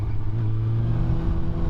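A Yamaha R6 sport motorcycle with its dB killer fitted idles and revs nearby, a steady deep exhaust drone that holds throughout with a slight swell, no voices over it.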